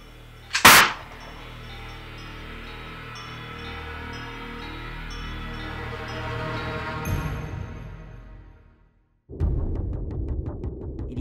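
A single sharp gunshot from a homemade zip gun pistol cracks out near the start, loud and close, followed by a fading ringing tail and a later burst of noise.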